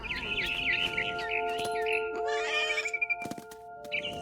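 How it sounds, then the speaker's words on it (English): Barn swallow chirps in What Remains of Edith Finch, a bright run of quick tweets over a steady tonal game ambience, with a burst of fluttery calls in the middle and scattered clicks near the end. "Then I heard chirping outside my window. It was a barn swallow going back to her nest."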